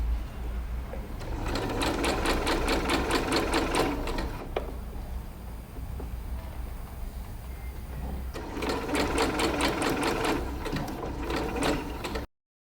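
A sewing machine stitches ultralight tent fabric onto mesh in two rapid, steady bursts of close mechanical clatter separated by a brief pause, then stops abruptly.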